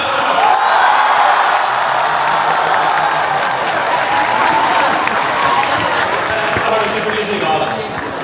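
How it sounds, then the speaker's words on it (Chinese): An indoor theatre audience at a Xiangxi art show applauds for contestant number four, a dense, loud wash of clapping that holds steady throughout with scattered cheers mixed in. "支持4号的，掌声。"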